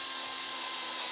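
Power drill running steadily while siding is installed on a house, a close, continuous whirring hum that stays level throughout with no talk over it.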